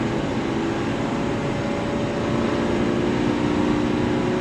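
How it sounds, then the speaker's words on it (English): A V10 engine in a 2017 Thor Four Winds 28A Class C RV drones with a steady, loud exhaust and road rumble from inside the moving vehicle, holding an even tone throughout with no talk. "Old V10's got its own unique sound, their exhaust."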